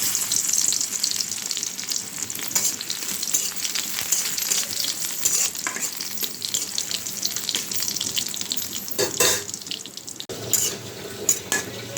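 Dried red chillies and crushed garlic fry in hot oil in a wok, giving a continuous loud, close sizzle and crackle with faint stirring throughout.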